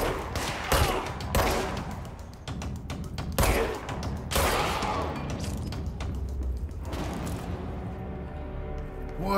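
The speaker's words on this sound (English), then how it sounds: "Why all of a sudden now are we being shot at?" Enemy gunfire in Control crackles in repeated bursts of sharp shots and thuds, loud and close, separated by short gaps before tapering off.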